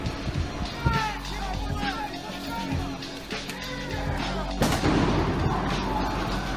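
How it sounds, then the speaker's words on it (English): Sharp bangs and crackling pops of fireworks go off amid a noisy street protest crowd in Berkeley, with shouting voices and one loud burst standing out. "those are protest fireworks"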